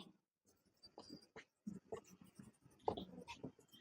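Marker or chalk writing on a classroom board, a handful of short faint scratchy strokes separated by quiet gaps, close and isolated.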